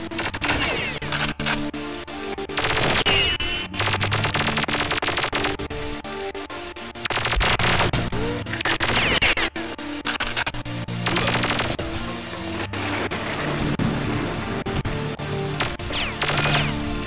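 Enemy gunfire in the video game Perfect Dark comes as dense, loud bursts of shooting and crashing impacts layered over game music, nearly continuous throughout.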